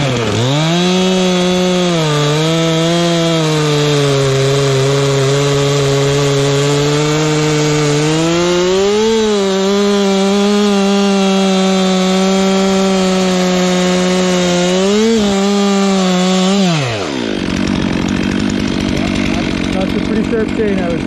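A Stihl MS 362 chainsaw, freshly tuned with a sharpened chain, cuts through wood at high revs with a steady, loud whine that rises and dips, then drops abruptly as the cut ends and the engine settles.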